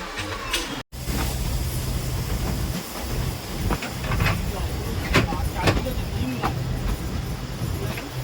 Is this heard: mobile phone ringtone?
no